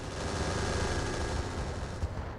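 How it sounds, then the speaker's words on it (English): Heavy, continuous explosion and weapon-fire roar from BattleTech with the RogueTech mod, dense and loud throughout with a sharper burst near the end. "That's some explosion."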